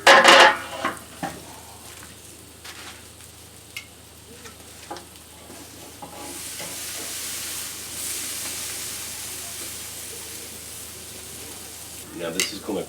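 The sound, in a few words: steaks sizzling over hot coals on a grill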